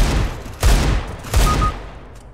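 Gunfire in Counter-Strike: Global Offensive, two sharp, loud bursts of shots roughly three-quarters of a second apart, each fading quickly into a low background hum.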